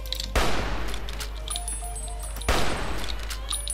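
Two loud, punchy bursts of gunfire ring out in the video game Old World Badger, about two seconds apart, each with a ringing tail, above a steady low hum and faint tonal game effects.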